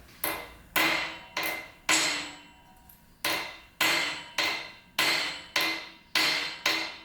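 A metal plug is hammered flat on an anvil: sharp, ringing blows in an irregular series of about a dozen strikes, close and clear with brief pauses between groups.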